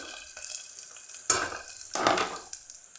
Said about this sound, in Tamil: வெங்காயம் இப்போ நல்லாவே வணங்கிடுச்சு